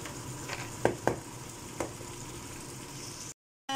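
Eggs dropped into a pan of sizzling corned beef with potato, a soft steady frying hiss broken by a few sharp crackles and pops, then a short silence near the end.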